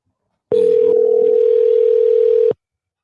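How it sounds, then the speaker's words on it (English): A telephone tone sounds on an outgoing call, one steady electronic note held for about two seconds, loud and close, with no talking. "his phone ringing"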